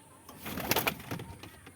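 Domestic pigeons in a home loft, including white Madrasi birds, give a short burst of soft, low cooing and throaty murmurs, close by and over within about two seconds.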